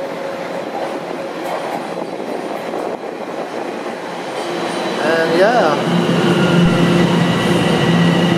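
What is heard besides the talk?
new Toronto subway train arriving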